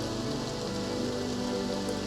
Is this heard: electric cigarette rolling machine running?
no